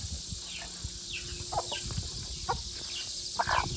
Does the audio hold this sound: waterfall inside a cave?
no